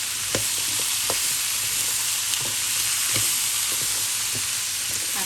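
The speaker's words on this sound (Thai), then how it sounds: "เราก็จะผัดให้หอมเขาสุกใสขึ้นมาสักเล็กน้อยนะคะ" Shallots sizzle steadily as they stir-fry in a hot pan, a constant close crackle punctuated by sharp scrapes and taps of a utensil against the pan, with no talking.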